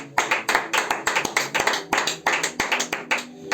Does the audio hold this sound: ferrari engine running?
no